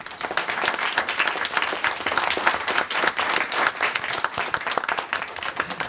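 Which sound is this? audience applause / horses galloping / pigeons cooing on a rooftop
audience applause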